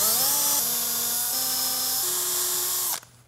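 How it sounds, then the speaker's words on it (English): Power drill boring deeper holes into homemade prop parts for a giant Lego sword and shield, a loud steady whine that shifts pitch in steps over about three seconds before cutting off abruptly. "So we'll just drill these a little deeper."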